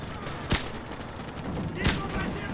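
Two loud, separate sniper rifle shots about a second and a half apart in Call of Duty 4: Modern Warfare Remastered, cracking sharply over a constant background of game noise.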